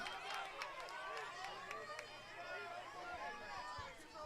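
A crowd of mostly Collinsville fans at a high school soccer sectional final, a steady murmur of chatter and scattered shouts from the stands, heard at moderate distance with players' footfalls and calls mixed in.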